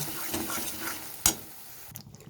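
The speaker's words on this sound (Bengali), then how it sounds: "টক দইটা দিয়ে আমি কিছুক্ষণ কষিয়ে নেব" Cauliflower roast being sautéed with sour yogurt gives a faint, soft sizzle and stirring, with a single sharp clink of a utensil against the pan partway through, then quieter bubbling.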